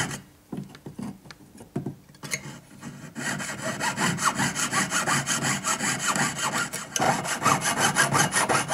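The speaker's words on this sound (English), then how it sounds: "straighten your blade so it's nice and square with the work, and then you can just speed up the action of your cut and turn the blade." Jeweler's hand saw blade cutting stone for a faceted pendant, first a few hesitant strokes, then a fast steady back-and-forth rasping rhythm, close and fairly loud.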